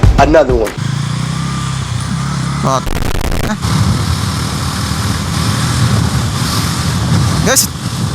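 A Bajaj Pulsar NS400Z 400cc motorcycle with a quickshifter, ridden with the throttle opened hard: a loud engine note rises sharply near the start, then carries on as a steady roar mixed with heavy wind rush.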